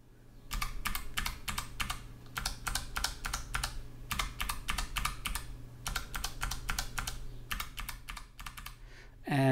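Bursts of rapid key clicks typed on a Logitech MX Mechanical Mini keyboard, several runs separated by short pauses, close and crisp with no talking.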